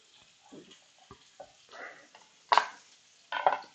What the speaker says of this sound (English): sizzle, baby, sizzle